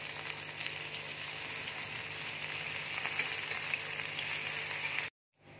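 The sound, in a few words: ginger, garlic, green chilli and spring onion sizzling in hot oil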